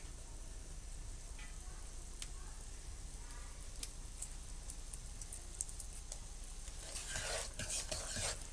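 Flour roasting in desi ghee with cardamom seeds for halva, giving a steady soft sizzle with occasional stirring scrapes and clinks, louder bursts of stirring near the end.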